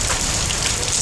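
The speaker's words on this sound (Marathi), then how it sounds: "आता पण पाऊस चालू झाला आहे. पहिला पाऊस ऑफिशियल" Steady rain of the first monsoon shower in Nalasopara, a dense continuous hiss of drops hitting surfaces close by, even and unbroken with no voices.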